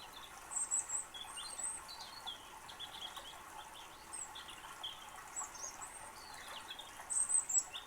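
Free sound-app bird song effect arranged in stereo: faint, scattered high chirps and tweets over a soft, steady background, with a louder cluster of calls near the end.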